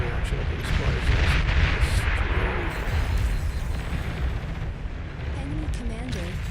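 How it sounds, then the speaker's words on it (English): A chain reaction of explosions in the strategy game Beyond All Reason rumbles on as dense, overlapping booms and blasts, loud and continuous throughout. "the chain reaction of the explosions"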